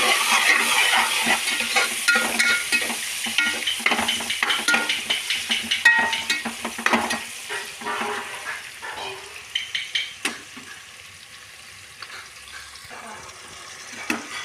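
Ingredients sizzle and fry in a hot pan while being stirred, a crackling sauté with rhythmic scraping strokes that fade toward the end, leaving softer sizzling and a few faint clinks.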